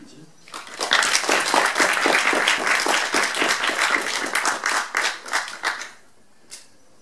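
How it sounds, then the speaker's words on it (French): An audience at the Cinémathèque applauds filmmaker Patrick Grandperret with dense, steady clapping that thins into a few last claps and fades out near the end. "Patrick Grand-Péré, vous pouvez applaudir."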